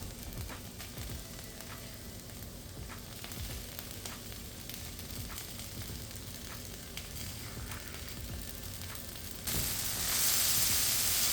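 Keto pasta warming in a pan on the stove before pesto is added, a steady close sizzle with light stirring scrapes that turns to a brighter, louder hiss near the end.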